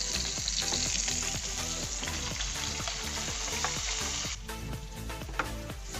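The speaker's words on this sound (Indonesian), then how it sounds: "Ini yang dua kita bakar, yang satu kita goreng." Quail meat frying in hot oil, a steady loud sizzle with crackling pops and spatter throughout, close up and without talk.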